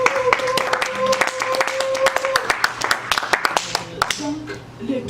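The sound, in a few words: congregation clapping and acclaiming the Lord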